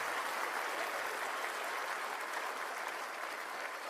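Steady, dense applause from an audience welcoming a senator at a crowded event, loud and continuous for several seconds with no pause.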